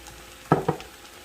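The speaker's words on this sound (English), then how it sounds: "Stir that around a second." Chopped red bell pepper and three cloves of chopped garlic being stirred in a pot, two short scraping stir strokes with a light sizzle close by, alone without talk.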